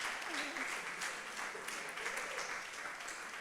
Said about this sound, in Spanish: Podrían aplaudir,